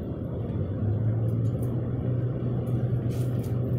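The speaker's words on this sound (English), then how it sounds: "that truck is so goddamn loud" Heavy truck engine rumbling steadily and loudly on a Mississippi road, a low droning hum holding throughout with no talk.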